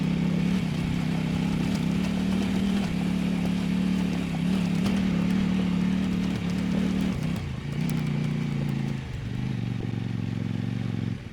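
A 2025 Kove 800X Pro adventure motorcycle on stock tyres being ridden, a loud steady engine drone with wind rush that dips in pitch as the bike slows down.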